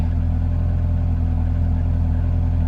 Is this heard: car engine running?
yes